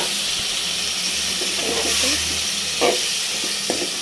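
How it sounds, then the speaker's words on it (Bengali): Cut fish pieces with potatoes dropped into hot oil give a steady broad hiss and sizzle, with a few brief louder crackling bursts; the whole is fairly close and even. "তেল উঠে গেছে, এখন মাছগুলো দিয়ে দিই।"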